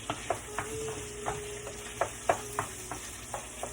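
Sausage meat frying in plenty of olive oil in a pan for an egg roll bowl, with a steady soft sizzle and periodic scraping stirs of a utensil, fairly close and with no talk.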